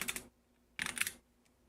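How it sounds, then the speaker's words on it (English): Fingers type on a computer keyboard in two quick bursts of light, crisp key clicks separated by a short pause, close and fairly faint in a quiet room. "Sheesh, that was a lot of typing."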